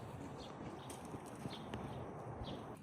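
A young green four-year-old horse in Ireland walks, its hooves clip-clopping in a faint steady rhythm at a distance.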